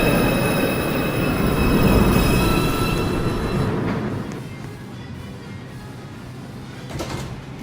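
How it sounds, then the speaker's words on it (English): A New York City subway 2 express train pulls into the Lincoln Center station with a loud rumble and high wheel squeal, then fades to quieter platform ambience with a brief clank near the end. "Downtown, express 2, train. Approaching the station, please stand away from the platform edge."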